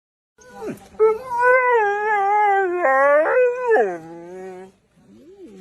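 A lost female dog howling sadly after a major flood in Taió, a long, close, loud wavering howl that rises and breaks in pitch, ending with a short whimper.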